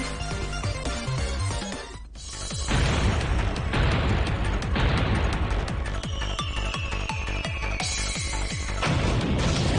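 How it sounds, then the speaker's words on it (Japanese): Explosions in the Blue Archive video game pop and boom in rapid, dense bursts like a fireworks volley, loud and close, with a brief dip before the barrage intensifies under game music. "やっぱ花火の音に聞こえるんだよな、これ"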